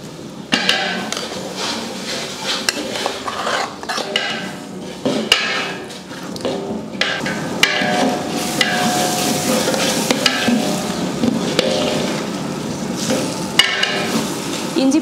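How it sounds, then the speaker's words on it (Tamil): Half a kilo of ginger garlic paste sizzles in a large biryani pot for a big chicken biryani batch, with a steady frying hiss and repeated scraping and clanking of a stirring ladle against the metal. "இஞ்சி பூண்டு போட்டு நல்லா வதக்கியாச்சு."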